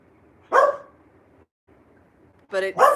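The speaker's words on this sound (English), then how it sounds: "I don't know what he's barking at." A dog lets out a single bark indoors, then two more quick barks about two seconds later, loud and close with quiet pauses between them.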